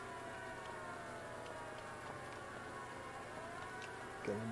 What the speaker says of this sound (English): And the Silent Hill sirens are still going off out here.